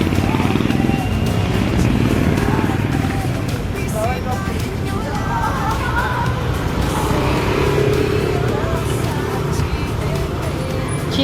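Cars and motorcycles pass along a busy street in a steady, close rumble of traffic, with people talking over the road noise.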